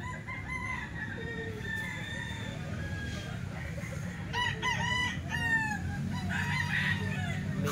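Boston Roundhead roosters crow repeatedly on a rainy farm, their wet birds letting out several drawn-out cock-a-doodle-doos over a constant low background rumble.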